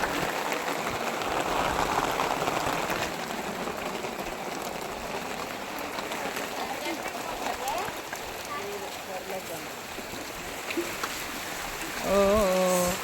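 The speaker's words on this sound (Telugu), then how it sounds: "వర్షం వచ్చేస్తుంది." Rain beginning to fall at the Araku waterfalls, a broad steady wash of patter with a person talking over it and a brief louder burst near the end.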